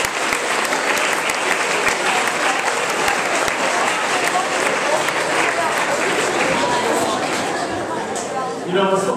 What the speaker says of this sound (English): it's so fun to have people clap when you come on to anything